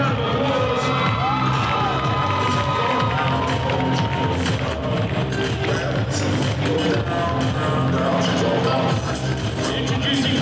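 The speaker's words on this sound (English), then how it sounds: "please give them a big round of applause" A crowd at a men's bodybuilding first-timers show in Sydney cheers and applauds nonstop, a loud, dense roar of clapping, whoops and shouts holding steady from start to finish.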